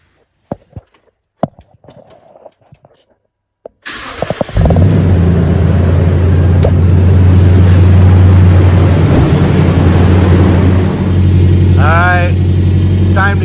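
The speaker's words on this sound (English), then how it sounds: "Starts like a brand new truck again." A work truck's engine cranks and fires up after a starter replacement, then settles into a loud, steady running drone. It follows some quiet clicks and handling noises and has a brief voice-like sound near the end.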